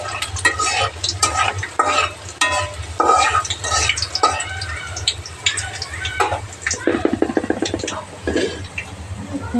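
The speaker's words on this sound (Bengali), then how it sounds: "এখন তেলের মধ্যে রসুনটা দিয়ে দিলাম।" Garlic frying in hot oil and stirred in a pan: loud, close sizzling and crackling with repeated scraping strokes of a utensil against the pan, continuous throughout.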